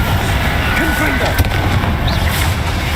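Confringo fire spell cast during combat in Hogwarts Legacy, a quick burst with crackle and a whooshing impact over continuous low battle rumble, an in-game voice heard alongside.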